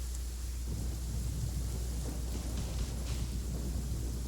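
Thunder and crackling lightning rumble in the Genshin Impact video game, a continuous low storm roar with a hiss like rain that holds steady and fairly loud, with slight flickering strikes partway through.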